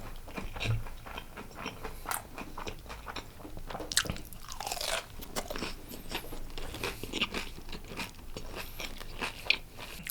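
Biting and chewing crunchy fried veg kurkure momo from an Indian street food stall, giving close, steady crunching and mouth sounds for several seconds with no talking.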